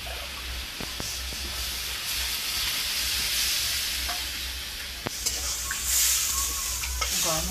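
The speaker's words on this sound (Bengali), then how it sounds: "এবার আমি একটু জল ঢেলে দেবো।" Water splashed into a hot pan of potatoes and taro sets off loud, close sizzling and hissing with sharp bursts and clatters of stirring, no voices.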